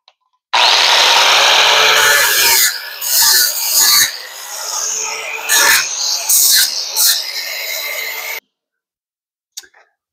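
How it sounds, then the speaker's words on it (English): A Weiler 36-grit zirconium flap disc on a grinder strips paint from a steel truck frame, a loud harsh rasping whine that surges and drops in short passes for several seconds before cutting off into silence. "Flapper disc. It's a 36-inch grit zirconium disc made by Weiler."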